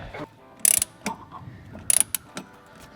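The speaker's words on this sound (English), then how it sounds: "Now we just have to go down bottom and reinstall that 12 millimeter bolt" A ratchet drives a 12 millimeter bolt back in on a Cube Speed short shifter for an MK4 Supra R154 gearbox. Two quick bursts of close, sharp clicking come with light metallic taps in between.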